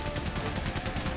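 Rapid gunfire in a Great War battle from Valiant Hearts, a fast regular burst of shots like a machine gun rattling steadily over a dense, noisy backdrop, moderately loud.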